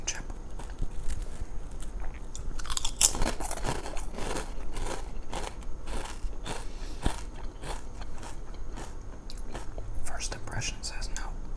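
Spicy potato chips crunched close to the mic in a series of crisp bites with chewing between them, soft whispery breaths in a quiet room and no speech.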